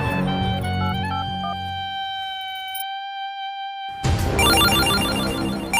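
An electronic phone ringtone plays a sustained melodic tone pattern, close and clear, stopping for about a second before a busier burst of tones and noise resumes.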